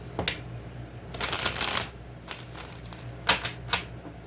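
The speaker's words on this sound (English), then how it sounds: "Let's shuffle a couple good times." Tarot cards being shuffled by hand, several quick riffling bursts with a longer flurry in the middle and sharp snaps near the end, close and fairly quiet, no talking.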